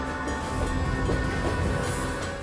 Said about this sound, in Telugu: ట్రైన్ స్టేషన్ నుంచి బయలుదేరింది.